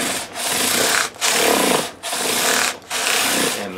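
Bass guitar frets scrubbed with 400 grit sandpaper after levelling during a fret dress, a loud close rasping rub in four steady back-and-forth strokes separated by brief pauses.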